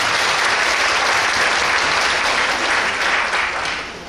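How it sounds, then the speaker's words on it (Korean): Parents at an elementary school parents' general meeting give loud, close, continuous applause for about four seconds, fading toward the end. "큰 박수 부탁드리겠습니다"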